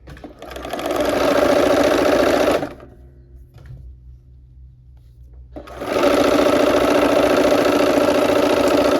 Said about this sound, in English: we are going to sew these pieces together